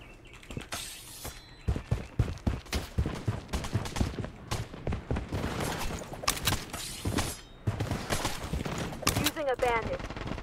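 Gunfire from the Blood Strike battle-royale shooter crackles in sharp, repeated bursts throughout, loud and close, mixed with game effects and a short burst of chirping near the end.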